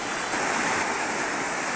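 Rough sea waves breaking on a provincial fishing shore in bad weather from a low-pressure system, a loud, steady wash of surf and spray, close and unbroken, with no voices.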